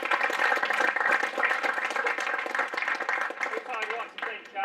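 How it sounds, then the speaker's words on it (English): An audience gives a sustained round of clapping for a football club committee at a senior awards presentation. The applause is steady and dense at first, then eases off toward the end. "so if you give the committee a round of applause"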